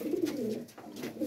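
Soft, low pigeon coos rolling in a steady murmur, close by in a breeding loft, with a short dip in the middle before the cooing swells again.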